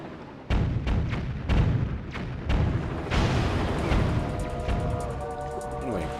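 Repeated cannon blasts at a warship in a sea battle video game: about six heavy booming shots in irregular succession, loud and close, followed by a rumbling tail and a ringing, tonal game effect near the end.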